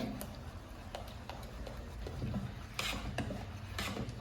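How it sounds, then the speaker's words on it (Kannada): Rice dosa batter with salt being mixed by hand in a bowl, soft wet squelching and stirring strokes, quiet and close, with a few sharper taps against the vessel. "ಉಪ್ಪು ಹಾಕಿ ಚೆನ್ನಾಗಿ ಮಿಕ್ಸ್ ಮಾಡ್ಕೊಳ್ಳಿ"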